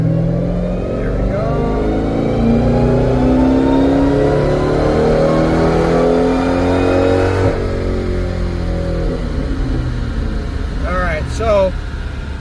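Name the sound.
car accelerating through the gears on a pull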